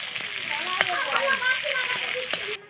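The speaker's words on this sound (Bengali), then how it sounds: "5 ফোড়ন দিয়ে দিলাম, রসুনটা দিয়ে দিলাম তেলের মধ্যে।" Garlic and five-spice (panch phoron) sizzle in hot oil in a heated kadai with a loud, steady crackling hiss and a few sharp pops, close by, before it cuts off abruptly.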